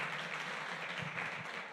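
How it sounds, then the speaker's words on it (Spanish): A church congregation claps in a steady wash of applause that stays even in loudness, heard alone without anyone talking over it. "Dele un fuerte aplauso al Señor por eso"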